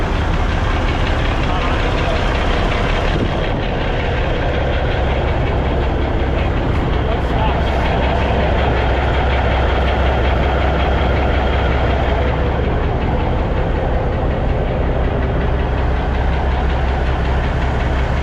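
A heavy diesel cabover truck engine idles steadily with a deep, rumbling knock, loud and close, while people talk over it now and then.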